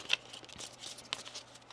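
Soft papery riffling of tarot cards being shuffled, a few quick flutters and taps close by, quiet with no talking.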